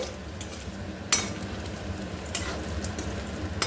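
Bread and paneer snack pieces fry in very hot oil with a steady soft sizzle and bubbling, broken by a couple of brief clinks of a utensil against the pan.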